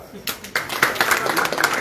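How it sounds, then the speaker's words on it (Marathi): An audience claps on request at a public talk, with bursts of applause breaking out, then a patter of hand claps mixed with voices. "टाळ्या वाजवा जरा."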